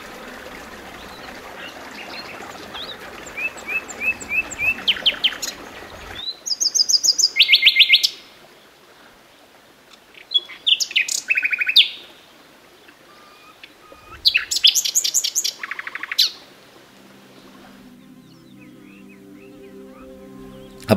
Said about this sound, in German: Auch viele Vögel zwitschern in den Bäumen